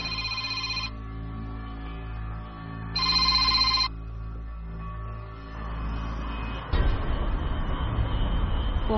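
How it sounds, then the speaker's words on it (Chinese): A telephone rings in two short, loud bursts separated by a pause, over steady low background rumble. A louder, noisier wash rises at the end. "谁的电话？"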